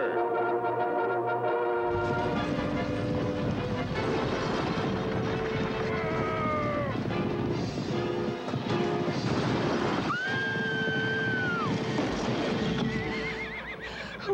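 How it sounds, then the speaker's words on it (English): Horses neigh and gallop in a Lone Ranger television advert, with loud rhythmic hoofbeats and several drawn-out whinnies rising above dramatic music for the whole stretch. "Who was that masked man who stopped the horses?"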